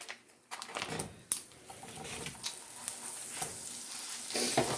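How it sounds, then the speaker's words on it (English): Two tablespoons of butter hitting a hot pan for homemade biscuits and gravy, a sudden crackling sizzle that settles into a steady fry with light clicks and taps of a utensil, close and without speech. "to the pan, before it starts burning, I'm gonna add 2 tablespoons of butter"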